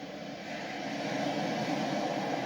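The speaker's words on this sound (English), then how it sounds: "And Rude is this helicopter right here." Helicopter boss fight in the video game Final Fantasy 7 Remake, a steady loud rotor and engine roar that holds evenly throughout with no talk over it.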